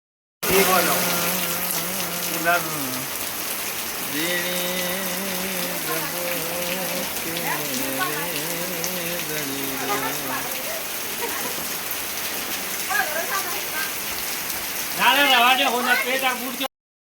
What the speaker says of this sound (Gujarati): જબરજસ્ત વરસાદ ચાલુ થઈ ગયો